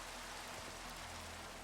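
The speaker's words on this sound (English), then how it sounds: "this rain's really annoying" Steady rain pouring down in the block-building game Minecraft, a dense, even hiss of falling drops filling the short stretch with no voices.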